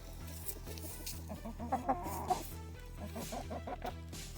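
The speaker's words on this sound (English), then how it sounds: "This rooster hates boots." A rooster clucks repeatedly at close range over a steady low mechanical hum, with a few sharper calls in the middle.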